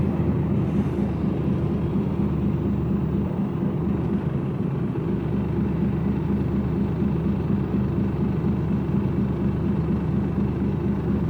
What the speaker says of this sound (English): Diesel rattly old thing.